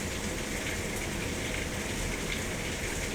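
Rain falls outside near a window as a soft, steady wash of noise, faint and even, with no voices.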